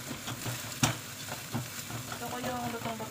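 Beaten egg frying for fried rice, a soft continuous sizzle broken by repeated scraping and stirring strokes of a utensil in the pan, one sharper knock early on.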